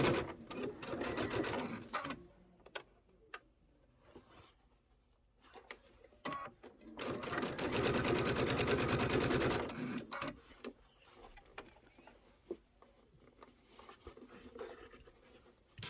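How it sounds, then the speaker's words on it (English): Sewing machine stitching and back stitching through fabric for a Kimberbell storybook pocket pillow, running in short bursts with a longer steady run in the middle and pauses between, close and fairly loud. "I'm just going to go ahead and stitch. I am going to back stitch."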